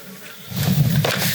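Bees buzzing around a backyard hive that is short of corks, a steady close-up drone starting half a second in and holding loud and continuous, with no talk over it.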